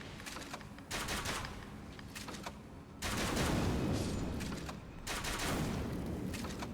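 Gunfire in Elden Ring's Convergence Mod, quiet bursts of rapid rattling shots in several separate volleys, the longest near the middle, with no speech.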